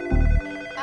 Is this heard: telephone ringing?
yes